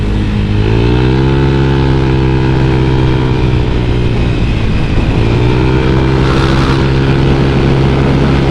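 Automatic scooter engine on the road, a loud continuous drone that rises in pitch as it accelerates, eases off briefly, then climbs again with wind noise throughout.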